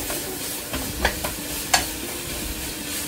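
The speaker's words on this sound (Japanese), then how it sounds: "ネギ関係がくちゃくちゃになるまで炒めるのが本当ですね。" Green onions and pork stir-fry in a hot pan for an izakaya-style salted pork dish, a soft steady sizzle broken by a few sharp scraping stirs of the utensil.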